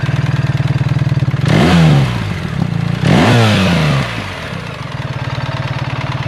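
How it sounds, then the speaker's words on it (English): A BMW R1300 GS motorcycle with a standard exhaust idles with a steady low throb, then is revved sharply twice, each rev rising and falling before settling back to idle. "Not bad sounding motorcycle"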